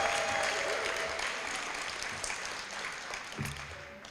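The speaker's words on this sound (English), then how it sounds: "Let's give our Educators of the Year a rousing round of applause." Banquet audience applauding the Educators of the Year at an awards dinner, a broad wash of hand claps that stays steady and then gradually thins out over about four seconds.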